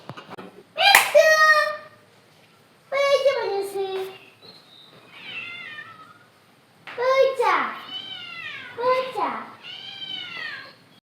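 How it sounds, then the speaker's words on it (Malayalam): A house cat meows repeatedly in drawn-out, rising and falling calls, close and clear, while a child plays with it and speaks between the meows. "ഇവിടെ ഉണ്ടായിരുന്നൊരു പൂച്ചയാണ് കേട്ടോ ഇത് എപ്പോഴെങ്കിലുമൊക്കെ ഒന്ന് വരും"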